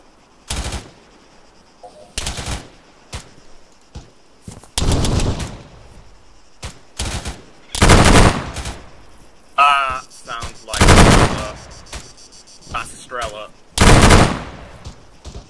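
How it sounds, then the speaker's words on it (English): A .50 caliber machine gun firing in Arma 3, loud repeated bursts of rapid heavy shots spaced by short pauses, with radio chatter and voices between them. "be advised, we have a 50 caliber machine gun. We are taking fire from the inside of the town"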